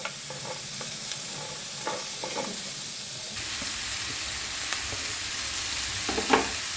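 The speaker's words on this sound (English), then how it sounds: "Just saute all the vegetables in medium flame." Tomatoes and mixed vegetables for paneer jalfrezi sizzle and fry in a pan over medium flame, a steady close hiss with occasional stirring scrapes and clicks, no voices.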